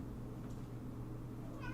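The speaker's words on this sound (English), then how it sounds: "Sorry if you can hear a cat yowling in the background." A cat yowling in the background, a faint drawn-out cry rising briefly near the end over a low steady hum.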